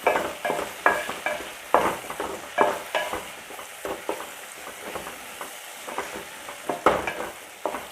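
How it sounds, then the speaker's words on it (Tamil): Two large tomatoes sautéing in a pan for a koduva fish curry, a soft steady sizzle under a continuous rhythm of spoon strokes stirring and scraping through the mixture, no speech. "தக்காளி நல்லா வதங்கட்டும்"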